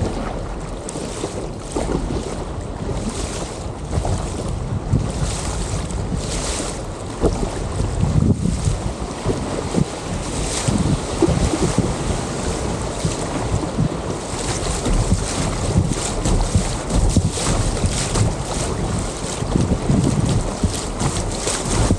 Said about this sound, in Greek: τα πρώτα rapids, τα πρώτα ορμητικά νερά έκαναν την εμφάνισή τους